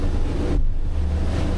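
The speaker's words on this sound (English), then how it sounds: "if you do this, like right now, go over some of these waves" A Boston Whaler 365 Conquest day boat runs over waves at speed, giving a steady loud rush of hull, water and wind with a low engine drone throughout.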